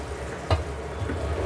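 Leafy greens frying in a pan, giving a steady low sizzle with one brief clatter of stirring in the middle, close and continuous.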